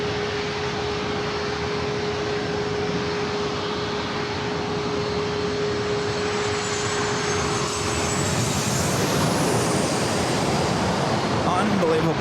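A Southwest airliner takes off on the flight path near San Diego airport, a loud, steady broadband engine roar that grows and rises toward the end, heard close below the aircraft with no one talking.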